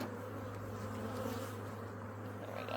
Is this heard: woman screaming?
no